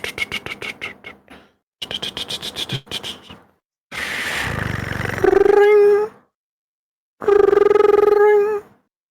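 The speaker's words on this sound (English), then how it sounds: "The sound of your phone" A phone ringing effect plays during a tabletop horror role-play session, with rapid trilling bell bursts followed by longer distorted, warbling rings and silent gaps between them.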